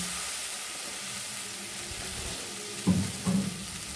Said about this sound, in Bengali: এর মধ্যে এবার অল্প করে জল দিয়ে দেবো আমি